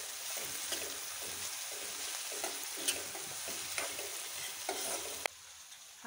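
Onion sautéing in a pan with steady stirring and light sizzling, small scraping clicks scattered throughout, close and alone with no voices, dropping quieter near the end.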